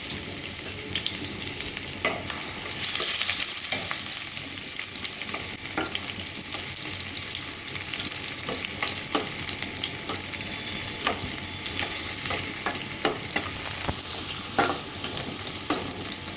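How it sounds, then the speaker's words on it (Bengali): Chopped onion frying in goat fat while being stirred, a continuous bright sizzle broken by scraping clicks of the spoon, close and alone without talk. "তারপর 4 টেবিল চামচ পেঁয়াজ কুচি ছেড়ে ভালো করে নেড়ে চেড়ে নিচ্ছি"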